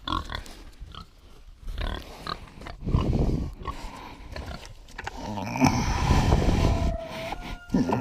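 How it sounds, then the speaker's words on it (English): Two farm pigs eating feed, grunting, snuffling and chomping close up in uneven bursts, with clattering and scraping of feed and a few high squeals. "I will feed the two pigs here."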